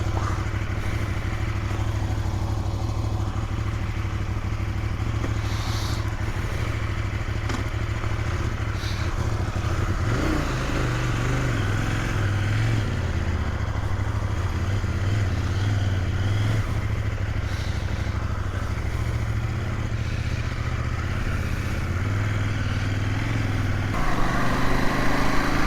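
A CFMOTO 800NK motorcycle engine runs steadily at close range with a deep, loud throb, its pitch shifting slightly partway through and picking up again near the end.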